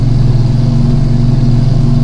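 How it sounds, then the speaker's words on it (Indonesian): A heavily loaded tronton truck in a driving video game, its engine droning in a loud, steady low rumble at high revs, with no talk over it. "Walaupun ini truknya muatan tapi kenceng sekali ini."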